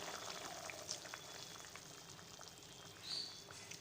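A hilsa (ilish) fish dish boils steadily in a pot, giving a continuous soft bubbling and hissing simmer with occasional louder pops, close and fairly quiet, with no voices.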